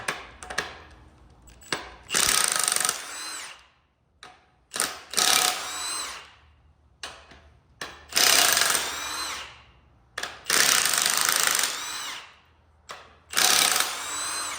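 Socket drive tool spinning in repeated whirring bursts while removing parts on a turbo GMC single cab truck, several loud close bursts separated by short pauses and clicks.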